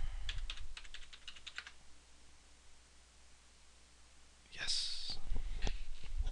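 Quick bursts of keystrokes on a computer keyboard as a password is typed, a short run of taps, a quiet pause, then a louder rustle and a few more clacks close to the mic.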